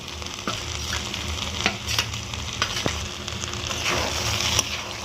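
Fried eggplant tipped into a pan with boiled greens for an ilish fish-head and Malabar spinach dish, giving a steady sizzle with sharp scraping stirs of a spatula at intervals, close and fairly quiet.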